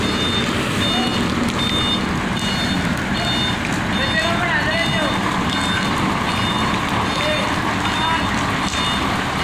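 A 40-foot trailer truck backing into a tight parking spot, its reversing alarm beeping steadily at an even pace over a constant engine rumble and outdoor noise, with people talking in the background.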